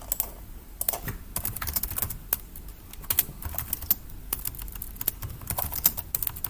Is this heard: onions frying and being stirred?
no